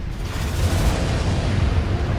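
Deep, sustained rumbling roar from missile strike explosions in Armored Core 6, a dense continuous boom filling the whole stretch at steady loudness with no distinct separate blasts.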